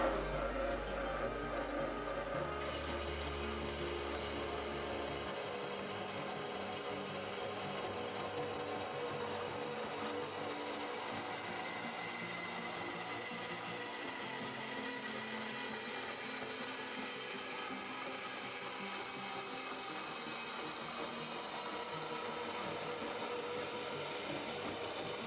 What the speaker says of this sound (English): We've got our metal bandsaw set up at 8 inches with the stop, and we'll cut the 4 8-inch ones first.